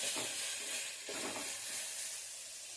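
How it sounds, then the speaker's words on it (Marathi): Ginger garlic paste and curry leaves fry in a hot pan, giving a loud, steady hiss and sizzle up close, with a couple of brief stirring swells and no speech. "आलं लसणाची पेस्ट चांगली भाजून घ्यायची आहे।"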